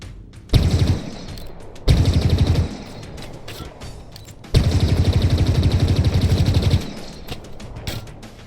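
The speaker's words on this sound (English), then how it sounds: "The Stalker rifle is a big red precision rifle, but it's not like the beam rifle." Stalker rifle fire in Halo Infinite, a big red precision rifle: loud, close bursts of rapid shots in two long stretches, with short quieter gaps of game ambience between them and no talking.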